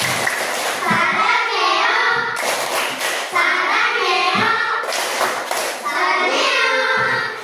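Children perform a Korean-style salute clap in a classroom, loud rhythmic clapping mixed with chanting young voices in several repeated bursts.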